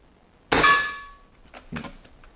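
An airgun fires a diabolo pellet into a block of ballistic gelatine: one sharp, loud report with a ringing metallic decay lasting about a second, then a softer knock and rustle.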